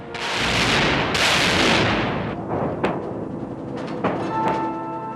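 Battleship guns fire a shore bombardment against beach fortifications: a long, loud, rumbling blast rolls on for a few seconds, followed by sharper distant reports and booms as it fades.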